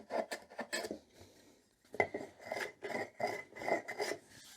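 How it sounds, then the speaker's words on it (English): Plywood edges of a shooting board are chamfered with quick, close, rhythmic rasping strokes, a fast flurry at first and then a steadier series of scraping passes after a short pause. "we just chamfer all the edges"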